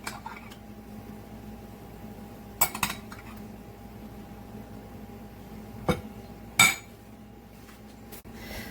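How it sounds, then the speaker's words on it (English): Meat juices from resting lamb shoulder spooned onto a plate, a quiet room with a few sharp metallic clinks of a spoon against the dish spaced apart. "There's a little bit of juice from when the meat was resting down at the bottom. And I'll just spoon that"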